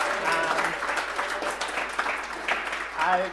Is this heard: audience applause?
yes